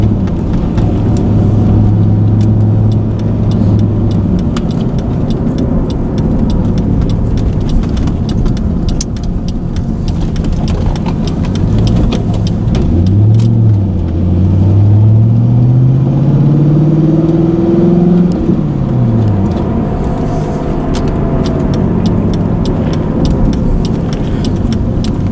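A car with a short-throw shifter pulls hard on an open road, its engine droning loud and close, the pitch climbing and dropping through quick gear changes, with no talking.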